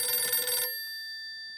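A telephone rings with one bright, loud burst in a Taarak Mehta Ka Ooltah Chashmah sitcom scene, then a thin tone lingers and fades.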